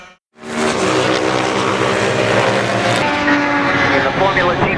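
Racing motorcycles in a Formula GP lightweight class roar past at close range, a loud continuous engine drone with shifting pitch and a second bike's note cutting in near the end.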